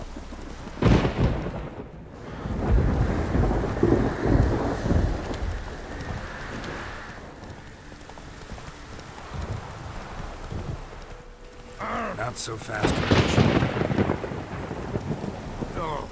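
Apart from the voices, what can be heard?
rain and thunder in the video game The Witcher 3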